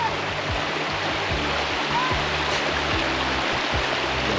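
A creek runs around a campsite in Georgia, giving a continuous, even rush of flowing water close by, with a faint low rumble underneath.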